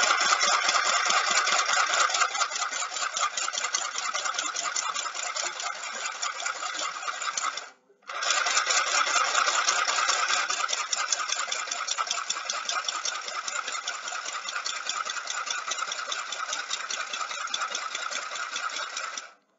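A mini sewing machine stitches through a paper card, giving a loud, fast, buzzing mechanical chatter that runs steadily, stops briefly once, then resumes for a long run.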